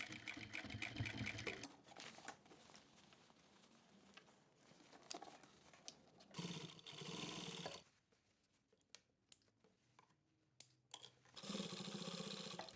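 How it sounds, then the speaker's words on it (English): A sewing machine runs while stitching the hem of a pair of jeans, sounding in several bursts of steady rapid whirring with quieter pauses in between as the fabric is adjusted, close by and moderately loud. "I'm sewing on the same line where the original stitch was."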